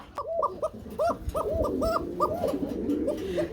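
A fancy pigeon coos close by in a rapid series of soft, rolling calls, with light background noise and no talk.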